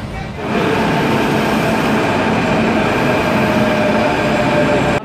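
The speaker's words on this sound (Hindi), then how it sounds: "देखिए ये मेट्रो जा रही है।" A Delhi Metro yellow line train rumbles past at Qutub Minar station, a loud, steady roar of wheels and motors that builds quickly and holds close by for several seconds.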